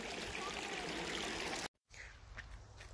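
Stream water flows and trickles steadily for under two seconds, then breaks off into a brief gap before a quieter, more distant burble of running water with faint splashes resumes.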